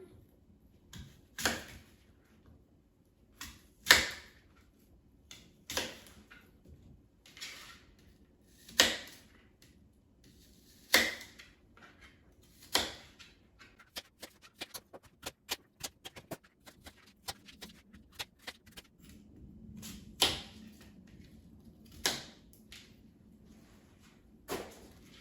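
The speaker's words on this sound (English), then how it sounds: "now I'll cut them into slices" A knife slicing through washed, unpeeled apples on a cutting board, a series of crisp separate chops at a steady uneven rhythm, close and fairly quiet with no talk.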